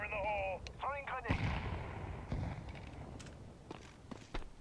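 A grenade going off in Counter-Strike 2, a single heavy blast with a rumbling tail, heard after a voice calls out a throw, with footsteps and faint game noise following.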